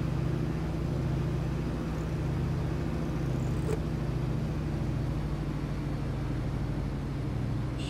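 A simulated de Havilland DHC-2 Beaver piston engine drones steadily on the ground during a carburetor heat check, a constant low hum with little change in pitch and no voices.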